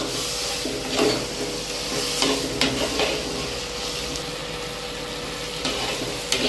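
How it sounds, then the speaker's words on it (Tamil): Chopped tomatoes sauté in a pan while cooking down for chicken gravy, giving a steady close sizzle broken by a few scraping stirs, with no voices. "தக்காளி வதங்கிட்டு இருக்கு. இன்னும் கொஞ்சம் வதங்கணும்."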